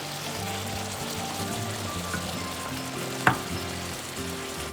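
Shrimp fry on a barbecue grill with a steady crackling sizzle, close by, while a low hum runs underneath and a single sharp clank sounds near the end.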